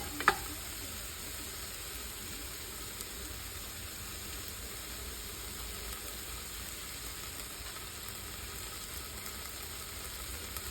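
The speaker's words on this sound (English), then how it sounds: "We're gonna let that simmer." Garlic simmers in a pan as the spice base for a spiced chicken carbonara. A faint, steady sizzle continues without pause, with no voices.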